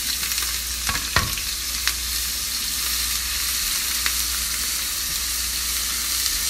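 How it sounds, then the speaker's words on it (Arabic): Onions drop into heated oil for qabuli biryani and fry with a loud, dense sizzling hiss, with a couple of sharp spoon scrapes early on and the crackle continuing evenly throughout. "الحين سخنا الزيت، نبي نحط البصل عليه"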